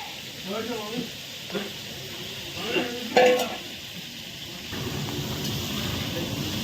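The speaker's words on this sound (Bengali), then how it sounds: "অনেকগুলো মাছ করতে অনেক সময় লাগবে তাই অল্প অল্প করে ভাজা হবে" Tangra fish fry in oil in a large batch, a soft sizzle running under a person talking, becoming steadier and more prominent after the speech stops.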